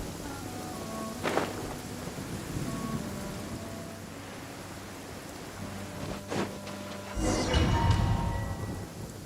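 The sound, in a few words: rain in the video game Genshin Impact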